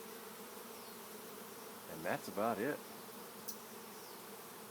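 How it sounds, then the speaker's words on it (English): A honey bee swarm gathering at a temporary staging spot during a capture hums as a steady, even drone, with someone speaking briefly over it. "This is a temporary staging spot for these bees."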